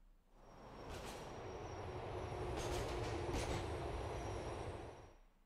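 A train in GTA IV rolls past with a steady, loud rumble and rail clatter, a few brief metallic screeches and high-pitched wheel squeals marking the run before it fades out at the end.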